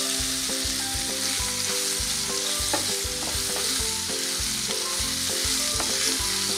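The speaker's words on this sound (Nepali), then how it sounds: "अलि 2 मिनेट फ्राई गर्ने छौ हामी यसलाई" Paneer gravy fries steadily in a pan with a loud continuous sizzle, while a utensil stirs and scrapes in a regular rhythm throughout.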